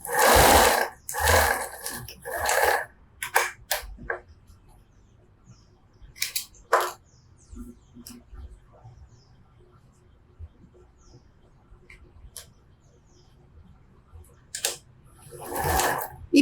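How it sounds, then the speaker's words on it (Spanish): A sewing machine runs in short bursts while stitching along marked lines on a fabric napkin holder. Motor runs start and stop, with quiet handling noise in the pauses between them. "Y paso costura por todas esas líneas que acabé de marcar."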